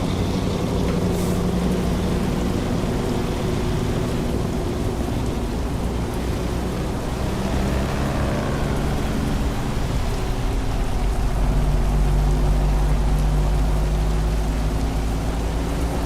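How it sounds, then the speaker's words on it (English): Heavy rain pours continuously with low rolling thunder beneath it in American Truck Simulator, a steady storm texture lasting about sixteen seconds without voices. "It's a right thunderstorm."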